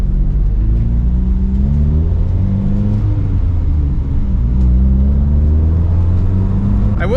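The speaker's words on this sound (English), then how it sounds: "let's go on a quick test drive" A Nissan 300ZX Z32 sports car with worn tires and an unsprung clutch drives on a short test drive, its steady low engine drone and road rumble continuous and close throughout.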